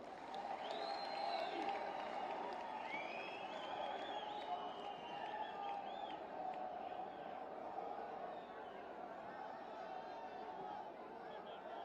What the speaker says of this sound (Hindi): जोरदार ताली नाल स्वागत करो।